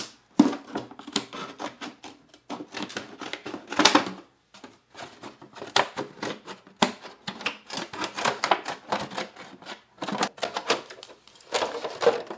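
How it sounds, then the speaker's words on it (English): Scissors snip in quick, irregular bursts along the hinge of a plastic container used for winter-sown seeds, close and crisp, with short pauses between the cuts. "use the scissors just to cut along the rest of it"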